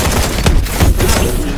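Dense, loud game combat in Call of Duty: Advanced Warfare with a rocket firing amid a steady wash of explosive, gunfire-like noise, brief heavy bursts punctuating the continuous roar.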